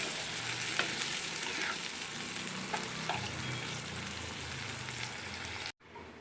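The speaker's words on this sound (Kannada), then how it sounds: "ಇವಾಗ ಇದು ಹಾಕ್ಕೊಂಡು ಒಂದು 2 ನಿಮಿಷ ಇದನ್ನು ಬಾಡಿಸ್ಕೊಳ್ಳೋಣ" Toor dal palya sautéing in a pan for a Dwadashi festival dish, a steady close sizzle and fry with occasional stirring scrapes throughout, ending in a sudden brief drop to near silence.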